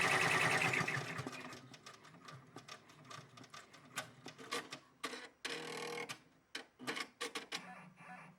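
An embroidery machine stitching lace runs with a steady mechanical whir and rapid ticking needle strikes, close up, then turns into choppy bursts of stitching separated by short pauses.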